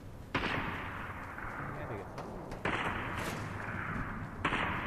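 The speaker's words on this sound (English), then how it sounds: "Someone's shooting somewhere." Gunfire in a video game, heavy booming shots landing in a few sharp bursts over a dense, rumbling background, with players talking throughout.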